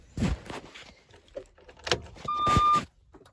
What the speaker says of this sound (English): We're going to press and hold the trip button there and turn the ignition on.